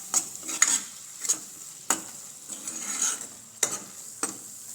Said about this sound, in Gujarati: આ મરચાંને આપણે સરસ રીતે તેલમાં કકડાવા દેવાનું છે